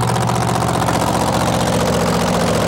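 A supercharged engine mounted on the nose of a two-wheel-drive pulling truck at a 1987 truck pull in Fort Wayne, Indiana, roars loud and steady, a dense, continuous drone with no letup.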